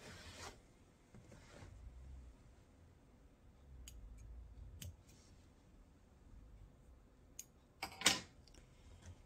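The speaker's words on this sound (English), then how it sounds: "then just trim your threads off" Scissors snip loose threads off a mesh tote: a few sharp, faint clicks scattered over quiet rustling, with one crisper cut near the end.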